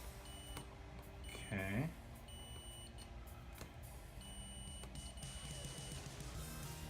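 A multimeter set to continuity gives a single short electronic beep while probing solder joints on a channel, faint against quiet room noise, with someone briefly speaking nearby.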